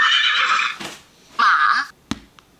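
A recorded horse whinny from an electronic toddler's animal sound book: two bright neighs with a short gap, followed by a sharp tap.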